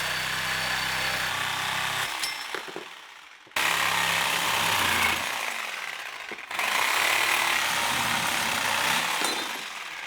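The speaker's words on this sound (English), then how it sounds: "Use the sawzall for that." Harsh, loud mechanical sawing from a reciprocating saw (Sawzall) during a go-kart engine swap, a rapid reciprocating rasp running in three long bursts separated by brief pauses.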